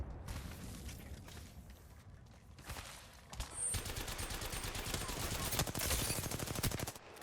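Gunfire in the video game Apex Legends arrives in rapid automatic bursts, sharp repeated shots clustered in the second half, fairly loud against a low game background.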